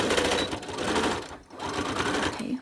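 Sewing machine stitching along the side edge of a folded ribbon skirt near the waistline, a steady rapid mechanical chatter running close and loud, with a brief pause midway before the stitching resumes.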